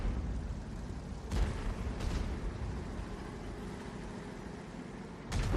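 An Object 261 self-propelled artillery gun fires in a video game, sharp booms standing out over a constant low engine rumble, with one shot early, another soon after and a final blast near the end.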